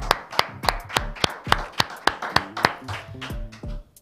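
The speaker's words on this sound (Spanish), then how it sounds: "Un aplauso para la Argentina." Slow, rhythmic clapping of a few hands, sharp individual claps spaced about a third of a second apart, close and distinct with faint background noise between them.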